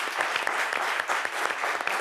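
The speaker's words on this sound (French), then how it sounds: "Donc, ça s'applaudit." Brisk applause from a group, dense clapping throughout at an even level without pause.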